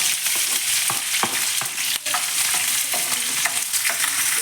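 Sliced onions frying in a pan with mustard seeds, curry leaves and green chillies for a potato palya, giving a steady close sizzle broken by several clinks and scrapes of a stirring spoon, with no voices.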